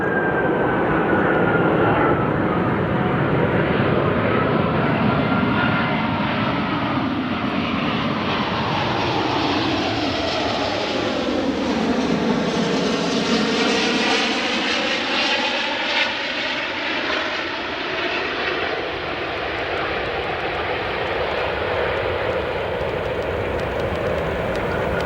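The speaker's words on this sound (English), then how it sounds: "watch this beautiful aircraft arrive here at O'Hare" Jet airliner arriving at O'Hare International Airport, a loud, continuous roar with a rising and falling whine as it passes close by, steady throughout with no voices.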